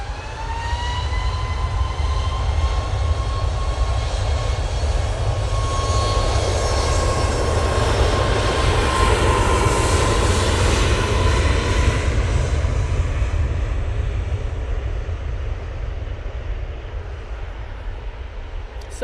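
A Boeing 737 MAX 8 jet departs, its engines a loud, continuous roar with a deep low rumble and a rising whine, holding strong across the clip before easing slightly near the end.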